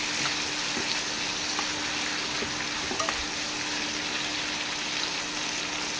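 Dried curry leaves crackle and sizzle in hot oil while onion pakoda curry is being made, a steady dense frying hiss that holds for the whole stretch with no talk.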